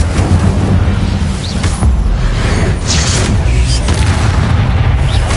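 Incendio spells in Hogwarts Legacy go off as loud, rumbling fiery blasts, one booming burst after another over a dense, roaring game backdrop.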